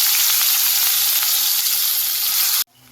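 Onion frying in hot oil with cumin, asafoetida and garlic: loud, steady sizzle filling the pan, abruptly cut off near the end to a faint background hum, with no talk.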